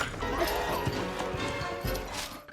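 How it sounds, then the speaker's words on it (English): Rapid, uneven hoofbeats of galloping Polish winged hussar cavalry horses thud through a dense, rumbling mix, fairly faint and continuous for a couple of seconds. "A detachment of elite Polish winged hussars galloped across the plains, led by the young Lieutenant Jan Skrzytuski."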